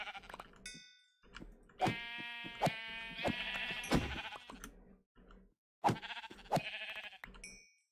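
Several sheep bleats from the Minecraft SevTech modpack come in bursts, one long and loud, with clicking taps and short game sound effects between them.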